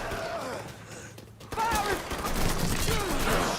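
Gunfire in the video game Mafia 3, bursts of shots mixed with grunts and shouting voices, a quieter stretch before a louder, busier barrage in the second half.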